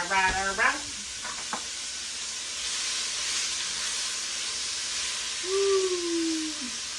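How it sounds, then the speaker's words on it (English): A steady, hissing sizzle of flour frying in bacon grease in a pot continues throughout. A brief voice sounds near the start, and a faint whistling tone appears near the end. "So we're going to let that sizzle."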